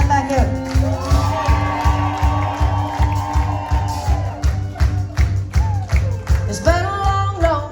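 A club crowd at a show at Zanzabar in Louisville claps, cheers and whoops for the band, heard over a steady pulsing kick drum and sustained band tones.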